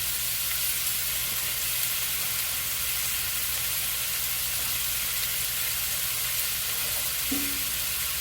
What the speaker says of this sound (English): So we'll have a little green bean stir fry thing going on here, y'all